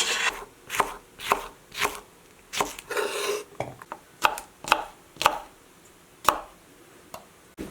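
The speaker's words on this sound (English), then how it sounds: "we're going to add our jalapeno slices to it. So let's get those sliced up." A knife slices jalapeno peppers on a cutting board in a series of crisp, close chops, about a dozen taps in an uneven rhythm with brief pauses, clear and alone.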